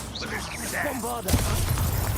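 Bombarda spell in the Hogwarts Legacy video game: a voice is heard briefly, then a loud, broadband blast erupts and a rumbling roar sustains to the end.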